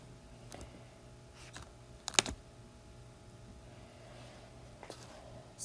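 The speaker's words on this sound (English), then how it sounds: "I need to convert this over into something I can type into my graphing calculator" Keys pressed on a graphing calculator keypad: a handful of sparse, light clicks spaced apart, close but faint, over a quiet background hum.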